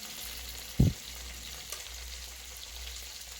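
Ginger paste lands in a pan of frying ridge gourd, producing one brief loud splash-sizzle followed by a low, steady frying hiss.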